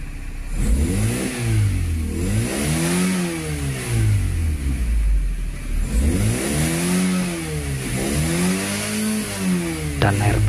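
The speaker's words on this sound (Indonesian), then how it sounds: "dan coba kita mainkan gasnya ya, apakah bisa maksimal pergerakan dari jarum RPM ini." A Toyota Corolla engine with a rough, poorly adjusted idle revs repeatedly as the throttle is blipped, rising and falling in loud close sweeps with no talk over it.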